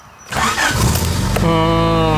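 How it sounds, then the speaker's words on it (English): A third-generation Honda Prelude engine cranks for about a second, then catches and settles into a steady, loud idle close by, with no talking. "first startup's been good lately"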